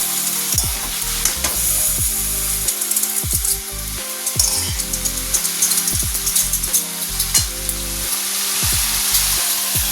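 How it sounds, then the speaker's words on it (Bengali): Potatoes frying in hot oil in a home kitchen, a loud steady sizzle broken by repeated scraping stirs of a spatula against the pan, with no talking. "আলুটাকে ভেজে নিচ্ছি আগে"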